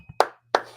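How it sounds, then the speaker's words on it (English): Two sharp hand claps about a third of a second apart, close and dry, with a faint thump before the first. "So round of applause."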